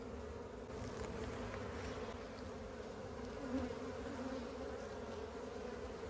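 Honeybees in an open hive during a fall inspection make a faint, steady, low drone that stays even throughout, with no voices.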